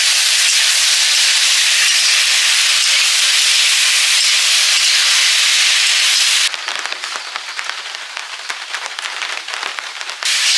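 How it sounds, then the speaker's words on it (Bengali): Heavy rain falls outside during a downpour, a dense steady hiss of drops that thins midway into a rougher spattering patter with scattered sharper drips, fairly loud and continuous with no voices. "ওদিকে বড় বড় ফোঁটা পড়ছে বাইরে"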